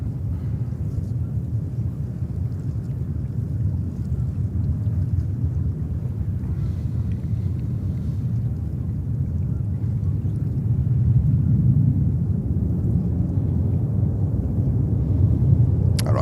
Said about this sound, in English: And we have Emirates coming over, the 380.